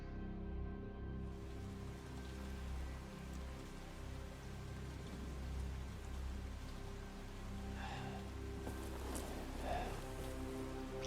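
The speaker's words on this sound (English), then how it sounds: "And now we're being dragged through the rain" Steady rain from the video game Resident Evil 7 patters on surfaces in a constant wash of noise, with a few louder drips and splashes near the end.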